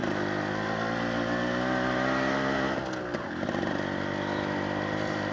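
A custom Yamaha RX135 two-stroke cafe racer motorcycle runs steadily while being ridden, its loud close engine note holding a constant drone with a brief dip and surge near the middle.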